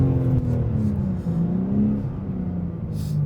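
Car engine pulls hard under acceleration, a loud, close drone climbing through the gears with one brief dip, steady for the whole stretch.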